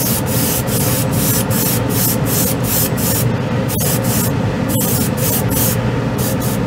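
A steady, loud rush of air blows over a freshly painted white scale-model piece to flash-dry the coat, a close, continuous hiss with a faint rhythmic pulsing and no speech.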